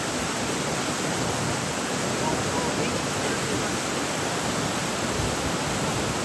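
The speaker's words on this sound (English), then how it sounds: "An amazing waterfall." A waterfall in Yosemite National Park roaring as a dense, steady, loud wash of rushing water heard from close by in its mist, with no pause throughout.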